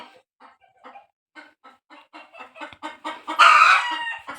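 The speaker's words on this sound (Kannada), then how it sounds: "ಕೋಳಿಗಳೆಲ್ಲ ಕೂಕೋತಾ ಇದ್ದಾವೆ" Chickens at a village house cluck in short, scattered bursts that grow louder and closer together, then a rooster breaks in with a loud, near crow near the end.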